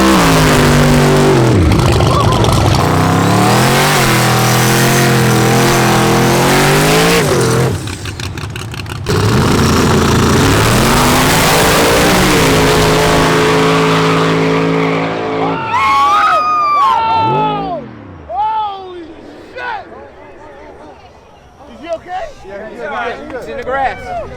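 Race cars, including a black Camaro, roar down a freezing cold track in a loud, sustained engine howl, followed by squealing tires and scattered crowd chatter as the noise breaks apart.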